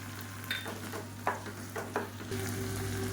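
Tomatoes and chili powder sautéing in a pan, with a constant soft sizzle and a few sharp spoon-stirring knocks, no talking.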